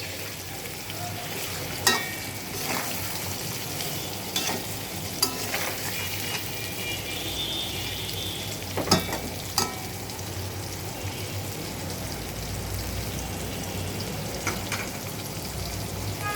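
Steady sizzling of potatoes and pointed gourd frying in oil, with occasional scraping stirs and clinks over the constant crackle, close by.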